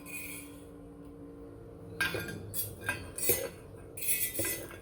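Roasted spiny gourds are moved from the pan to a plate with a utensil, giving soft metal scrapes and a few clinks against the dish, quiet and close.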